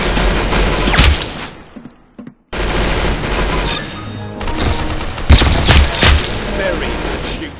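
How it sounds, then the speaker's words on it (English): Rapid gunfire and booming shots from the video game Arsenal burst out loudly, with a brief lull partway through, while voices talk over the action. "Very good shooting."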